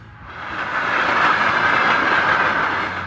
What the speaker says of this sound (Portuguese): quase é pega por um trem em alta velocidade